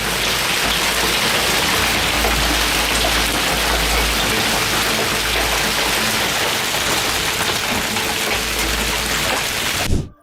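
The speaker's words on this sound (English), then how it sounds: "This is a frightening storm that engulfed Japan in hailstones" Hailstorm pounding down across a town in Japan, a dense, unbroken roar of stones battering surfaces at close range that holds steady for about ten seconds before cutting off abruptly.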